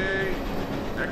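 Train cars rolling along rails in an audio drama scene, a steady low rumble with a faint whistle-like tone over it, close and continuous for a brief moment.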